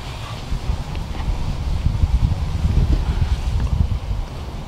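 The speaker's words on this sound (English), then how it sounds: "I do apologize for the wind." Gusty wind buffeting the microphone, a low rumbling roar that swells and fades throughout with no voices.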